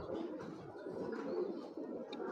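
Pigeons coo in a low, continuous murmur from a loft holding several fancy breeds, including Pakistani, military, Saharanpuri and hammer pigeons, steady and fairly close with no talking.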